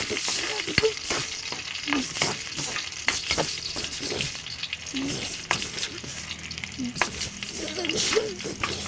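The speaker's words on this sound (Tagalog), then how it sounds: "Kapag mainit na yung mantika, maglalagay na tayo ng ahos." Garlic frying in hot cooking oil in a pan while chicken is being cooked: a crackling sizzle with stirring clatter and spatula knocks, close and busy, with some faint talk underneath.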